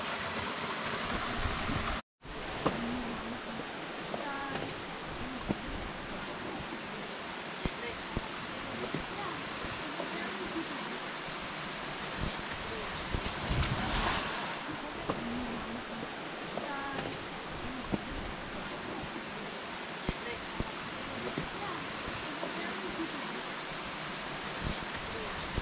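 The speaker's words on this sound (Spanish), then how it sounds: "muy fuerte este arroyo, pero hoy está bajo" A mountain stream running low beside a hiking trail gives a constant, even rush of water, close and full, with voices now and then over the flow.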